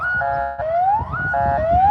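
A loud electronic siren wailing inside a school near a baseball game, alternating rising sweeps and rapid warbling tones in a repeating pattern.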